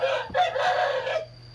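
A rooster with an inflamed ear gives a short, loud crow close by, with a brief clucking break partway through.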